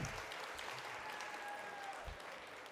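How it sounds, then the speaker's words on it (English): An audience at a school event applauds parents after their performance, a steady spread of clapping that is faint and distant throughout. "Please give them a big round of applause."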